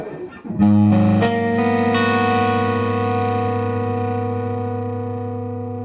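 Electric guitar chords on the middle pickup through a Pigtronix Philosophers Tone Germanium Gold Micro compressor pedal, strummed in quick succession, then left to ring out long and full, slowly decaying with a smooth, sustained tone.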